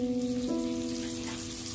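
Butter sizzles and crackles in hot peanut oil with fennel seeds, a close, continuous frying patter with a faint tonal hum underneath.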